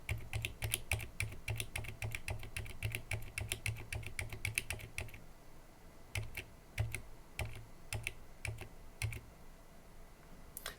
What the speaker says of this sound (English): starting with the stock switches here, I'm just going to go down each column